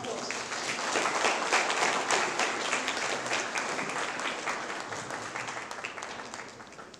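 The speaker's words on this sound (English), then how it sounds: "A big round of applause." Applause from a festival audience greeting two poets as they come on stage, a dense, steady wash of clapping lasting throughout and tapering slightly toward the end.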